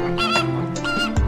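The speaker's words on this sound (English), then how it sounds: "Flamingo." A flamingo gives repeated honking, goose-like calls in quick succession, loud and close, with no talking.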